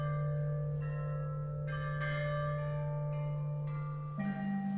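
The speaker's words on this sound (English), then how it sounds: "played on totally wonderful things like this monumental set of bells that dates to just after Confucius' death" An ancient Chinese bronze bell set plays a slow sequence of struck tones, each ringing out and decaying over a steady low drone. The bells are clear and resonant at a moderate level.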